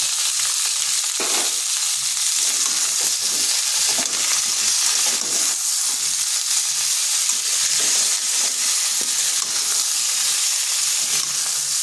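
Vegetables for shukto, a Bengali mixed-vegetable dish, sautéing in a pan after salt is added, giving a steady close sizzle and frying hiss with occasional stirring scrapes, no voices.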